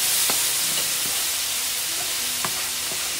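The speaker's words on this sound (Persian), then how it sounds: "و هم میزنیم" Sugar syrup caramelizing in a pan, stirred with a few spoonfuls of water added, gives a steady close sizzle with soft intermittent scraping strokes of the spoon throughout.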